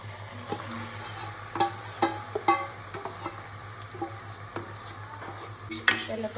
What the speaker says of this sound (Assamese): আৰু মই চিকেনখিনি দি দিম